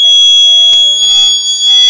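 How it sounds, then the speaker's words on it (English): Buzzer of an ARM- and GPS-based accident alarm system sounding a loud, steady, high-pitched electronic tone, close up and alone for about two seconds. "So buzzer is on."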